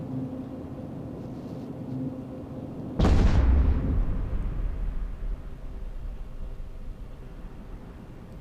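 A Vexor Navy spaceship blows up in the space game EVE Echoes: a sudden loud, booming blast over a low background hum, then a rumbling tail that slowly fades over several seconds.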